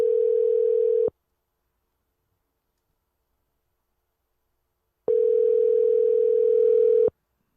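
A steady telephone dial tone sounds for about a second, cuts to silence, then returns for two more seconds before stopping abruptly.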